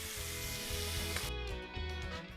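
Strips of pork belly crisping in a hot pan give off a steady, close sizzle that runs unbroken under soft background music.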